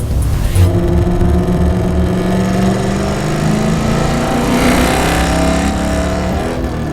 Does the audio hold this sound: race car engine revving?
yes